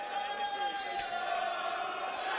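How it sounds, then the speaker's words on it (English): A boxing crowd at York Hall cheers and roars for JP O'Meara, a dense, sustained wash of voices with whoops rising above it, and a commentator talking over the noise. "listen to the crowd here for JP O'Meara"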